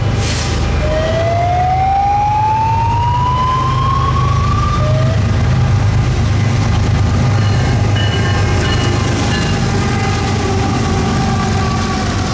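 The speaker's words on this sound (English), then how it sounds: "And after that train passed" A freight train rolls past close by as a steady, loud rumble and rattle of wagons, with a rising whistle-like squeal early on and no talk.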